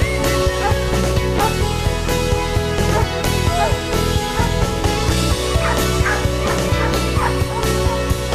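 Hunting dogs bark and yelp at a pig serving as bait during a hunting dog trial, their calls overlapping densely throughout, with steady loud activity and no clear talk.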